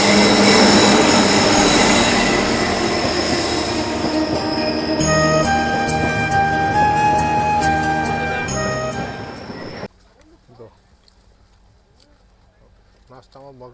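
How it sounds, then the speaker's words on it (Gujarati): A passenger train pulls into Nadiad railway platform with a loud rolling rumble and a run of shrill wheel squeals, then the noise cuts away to quieter platform ambience with faint voices. "ફાઇનલી ગાઈસ અમારી ટ્રેન નડિયાદ પ્લેટફોર્મ ઉપર આવી ગઈ હતી"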